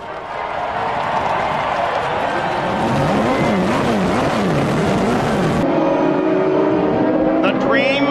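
IndyCar race car engines fire up and rev together in a loud, wavering roar with crowd noise around them, and a voice is heard over the din.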